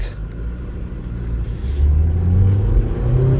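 A 2008 Ford Focus SE with a five-speed manual accelerates at about half throttle, its engine giving a steady low rumble that rises slightly in pitch. Heard from inside the cabin, loud and close, with no talk.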